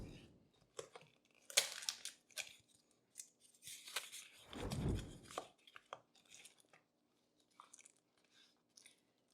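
A Xinzuo knife box and its packaging are opened: close, quiet bursts of crinkling and tearing paper and cardboard, with scattered rustles and one heavier scrape in the middle.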